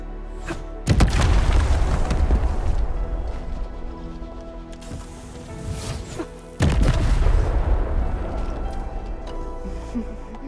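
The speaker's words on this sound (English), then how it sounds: "I give that explosion a 10 out of 10." Two heavy booming explosions in the video game Arknights: Endfield, the first around one second in and the second about six seconds later, each followed by a long rumbling, crackling decay.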